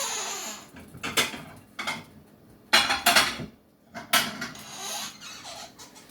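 Ceramic bowl picked up from a stack of dishes, with several clattering knocks and scrapes of crockery spread across a few seconds, close and moderately loud, no talking.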